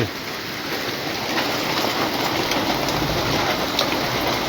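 Heavy rain falls steadily in a dense, even hiss, heard from inside a room. It is loud and continuous with no voices.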